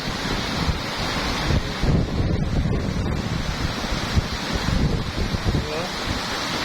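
Waterfall pouring steadily outdoors, a continuous broad rushing roar close by, with some wind buffeting the microphone and a voice faintly under it.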